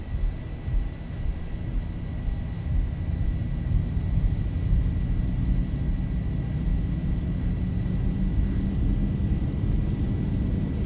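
A Boeing 737's engines spool at TOGA takeoff thrust in the X-Plane 11 flight simulator, a deep, steady roar and rumble that holds constant and loud with no talk.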